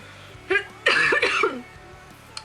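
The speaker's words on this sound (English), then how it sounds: "I have to cough really bad" A few harsh, close coughs in quick succession, one short cough followed by a burst of three or four rougher ones, then quiet.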